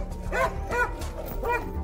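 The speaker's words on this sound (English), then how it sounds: "the dog attacks the combatant." A German Shepherd attacking a combatant during an SAS compound raid lets out three sharp, close barks in quick succession over a low background rumble.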